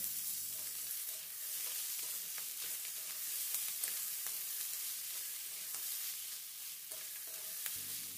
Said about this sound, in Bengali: এবার আদা বাটা আর লঙ্কার গুঁড়োকে একটু নেড়ে চেড়ে মিশিয়ে নিতে হবে।